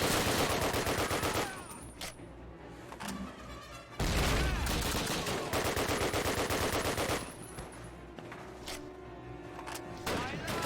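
Loud, sustained machine gun fire in the Call of Duty Classic Bastogne bunker battle, dense overlapping bursts with rumbling explosions that ease briefly and then surge again.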